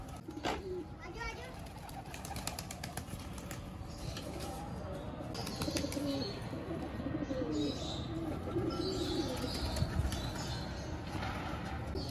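Pigeons coo softly in a loft at dusk, low repeated calls with a few chirps and wing flutters, fairly close but modest in level, with people talking now and then in the background.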